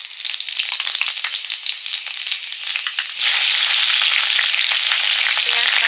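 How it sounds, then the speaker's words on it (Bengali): Bengali five-spice tempering crackles in hot oil as the base for a kundli and shrimp dish. A close, bright sizzle flickers through the first half, then swells abruptly into a louder, constant fry. "5 ফোড়ন দেবো তেলে,"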